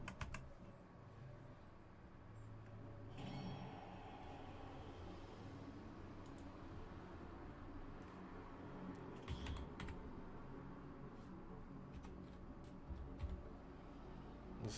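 Computer keyboard typing, a quiet run of soft, irregular key clicks in short bursts against faint background hum, close and low in level.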